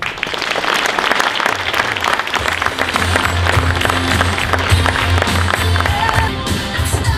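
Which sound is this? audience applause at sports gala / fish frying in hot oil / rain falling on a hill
audience applause at sports gala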